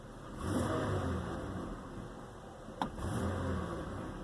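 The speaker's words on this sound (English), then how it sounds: "Let's see what happens if we hit the gas here." A Buick Lucerne with the GM 3.8 engine and a faulty electronic throttle body revs up as the gas is pressed, a broad mid-pitched engine roar swelling and holding steady, heard close with a brief click partway through.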